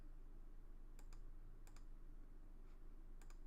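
Faint computer keyboard typing: a handful of sparse key clicks, some in quick pairs, over a low steady room hum, with no talking.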